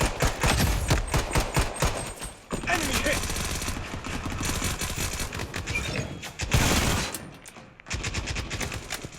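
Rapid gunfire from a first-person shooter game, dense bursts of shots in quick volleys separated by brief pauses, loud and close, with faint talking underneath.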